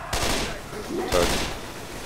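Gunfire in a Left 4 Dead 2 versus match: two loud bursts of shots, close and dense, under faint game noise and voices.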